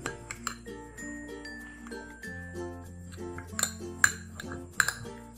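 A spoon mixes mashed banana in a bowl for a face pack, giving light, close clinks and ringing taps against the bowl in an uneven rhythm, with a few sharper knocks near the end.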